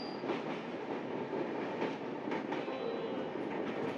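Kanchankanya Express (13149) running from Sealdah toward New Mall Junction: a steady, loud rumble of wheels on rails with faint clattering rhythm throughout, no voices.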